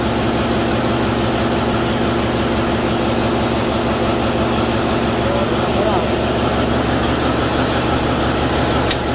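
A ship's main engine runs in a constant loud mechanical drone with a steady rhythmic throb, while someone speaks briefly over it.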